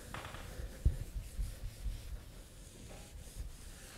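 Hand buffing of carnauba-based car wax off car paint in a rough first polishing pass: soft, low rubbing and wiping strokes with a few light thumps, fairly quiet and close, without talk.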